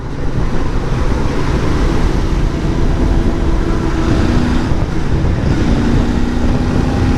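A Royal Enfield Bear 650 scrambler motorcycle cruising in sixth gear, heard from the rider's position: a steady, smooth low engine drone under loud continuous wind rush, with no talk.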